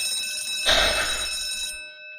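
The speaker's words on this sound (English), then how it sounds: "Alarm! Wake up" An alarm clock rings in a steady electronic tone that swells loudly for about a second, then holds and fades, standing alone with no talk over it.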